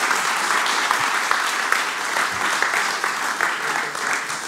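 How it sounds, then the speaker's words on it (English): Conference audience gives a round of applause for a guest speaker, a steady dense wash of many hands clapping evenly throughout, moderately loud and close, with no clear talk over it. "round of applause"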